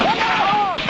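Battlefield gunfire as troops advance under fire, a dense continuous roar of shots with whistling streaks of passing rounds, loud and close, filling the whole moment without pause.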